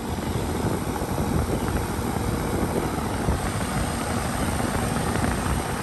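A residential HVAC condenser unit with a noisy fan motor or blade running, a loud, steady, close whooshing drone with a dense rumbling texture, unchanging throughout and with no talking.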